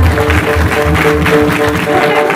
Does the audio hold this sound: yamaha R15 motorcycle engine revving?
no